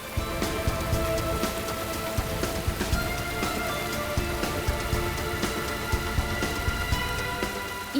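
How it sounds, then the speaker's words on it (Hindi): Heavy rain falling at a railway platform, a dense steady roar of drops with sharp patters and drips on nearby surfaces, loud and continuous, with no voices. "जब ये बारिश रुकेगी"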